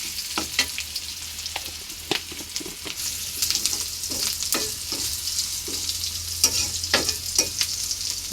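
Flattened rice (chira) sizzles in a hot pan, with a continuous crackling fry and repeated scrapes and clinks of stirring.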